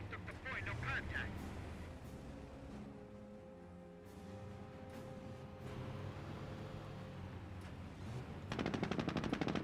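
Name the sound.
MG40 machine gun firing at a Jeep, video game Company of Heroes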